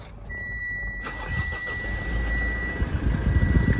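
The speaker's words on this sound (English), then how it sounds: "start the car." A 2017 Mitsubishi Pajero Sport Exceed engine cranks and starts, settling into a close, steady idle that builds slightly in rumble, with no talking.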